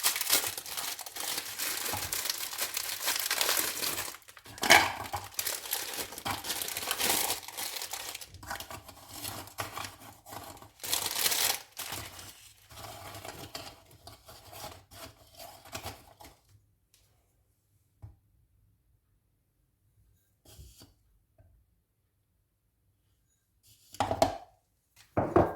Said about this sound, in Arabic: غادي نطحن هاد السبيكيلوس مع الزبده